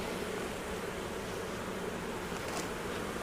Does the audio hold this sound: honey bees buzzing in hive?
yes